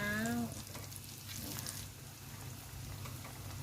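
Pork belly pieces deep-fry in hot oil in a pan over medium heat, a dense, steady close-up sizzle that swells slightly as more meat goes in, with a brief tonal beep at the start.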